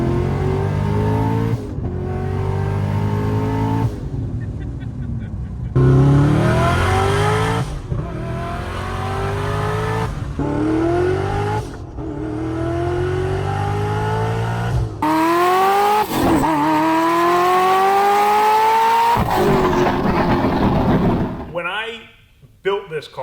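Porsche 911 fitted with a turbocharged 900 hp LS3 Corvette engine accelerates hard through repeated gear changes, the loud engine note climbing steeply before each shift and finally dropping away, with a voice talking over it.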